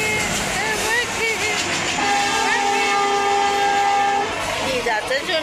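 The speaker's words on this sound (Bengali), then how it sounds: "ট্রেন যাচ্ছে এখন" A train rumbles past close by, and its loud, sustained horn blares for a couple of seconds in the middle while people talk nearby.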